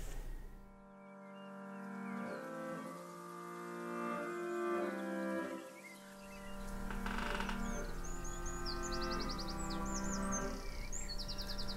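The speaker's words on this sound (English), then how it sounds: "I don't know how necessary it is for those birds to be like as forefront in the mix as they are" Birds chirping and tweeting woven into the mix of a music track, bright bird calls over sustained tonal music, growing busier in the latter half.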